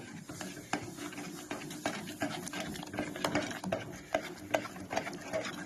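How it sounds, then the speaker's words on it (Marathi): A spoon scrapes rhythmically around a pot as sugar is stirred into rice pudding (kheer), giving steady, close scraping strokes over a soft cooking hiss. "आता ही साखर ह्या अशी हलवते"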